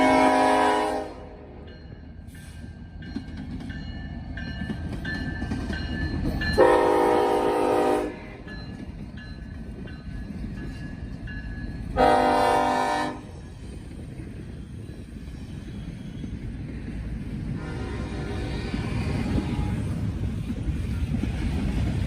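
Norfolk Southern heritage locomotive 1072 leads a northbound freight alone, its horn sounding in a few loud blasts over the steady rumble and rolling clatter of the passing train.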